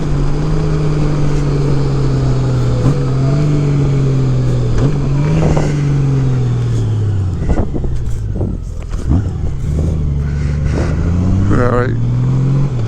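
2018 Honda Goldwing Tour motorcycle with BT Moto Stage 1 modified stock mufflers, loud and close, cycling through several rev rises and decelerating engine drops with burbling overrun, no talk.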